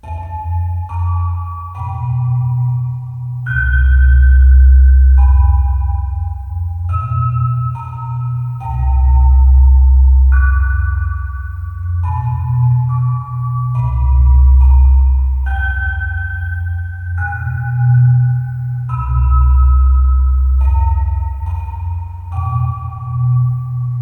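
A looping music pattern for a first-person horror game made in Godot 4: deep, heavy bass swells repeat every few seconds beneath a sparse chiming melody of held tones, with no voices.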